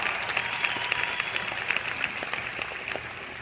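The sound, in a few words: audience clapping hands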